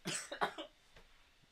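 A cough, a few sharp bursts close up in quick succession, then quiet.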